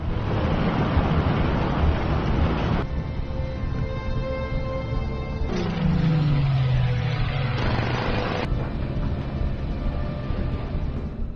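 Steady broadband rush of sea waves and surf heard aboard a ship in an action film, loud and continuous, with a low engine-like rumble and wind buffeting throughout.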